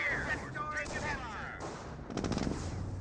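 Rapid machine-gun fire bursts out in a Company of Heroes real-time strategy battle, with US riflemen facing Panzer Elite infantry and a Kettenkrad. Someone talks first, then a dense, rattling volley dominates the final second.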